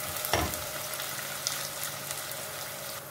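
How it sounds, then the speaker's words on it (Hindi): Onion and green chilli fry in hot oil in a mixed-vegetable dish with potato, peas, carrot, cauliflower and fenugreek, giving a steady, moderately loud sizzle with a brief burst near the start and faint stirring. "अब हम इसमें प्याज डालते हैं"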